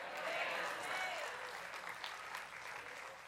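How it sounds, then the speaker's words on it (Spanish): Congregation applause in a Baptist church service, soft, fairly distant clapping that continues evenly and fades slightly toward the end. "Empezó el aplauso antes de tiempo"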